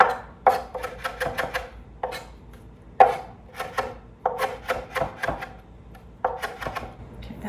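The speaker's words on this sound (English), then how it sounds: "I am gonna finely chop this. I don't really want big hunks of cilantro." Knife finely chopping fresh cilantro on a cutting board, a run of quick crisp taps in bursts separated by short pauses, close and clear with no talking.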